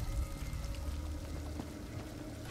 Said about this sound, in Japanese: 水の音がリアルなんだよ